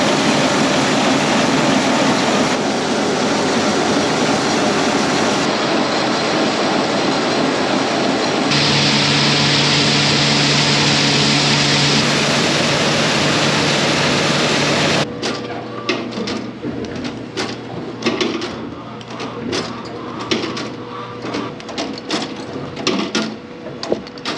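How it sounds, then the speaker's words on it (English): Livestock feed grinder fitted with a new bearing, running loud and steady with a continuous mechanical whir and low hum, then shifting at mid-clip into a rougher rattling, clattering grind as feed passes through. "The new bearing on this grinder, it makes this machine so much quieter."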